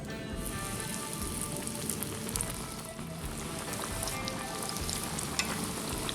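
Steady, crackling sizzle of food deep frying in hot oil, a dense, even hiss with small pops throughout, fairly quiet and close.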